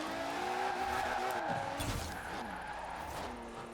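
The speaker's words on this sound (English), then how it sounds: "It literally has a race car engine in it." A Mercedes fitted with a race car engine is driven in Forza Horizon 4, with a loud, high-revving engine note, shifting pitch and tire squeal. Faint talk sits under the engine.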